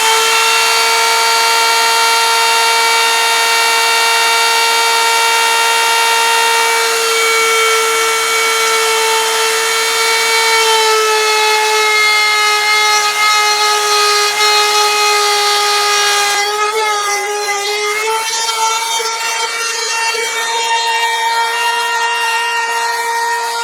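A power tool cuts a groove into a large wooden pulley held in a jig, producing a loud, sustained whining tone with steady overtones that wavers and shifts pitch partway through as the cut changes.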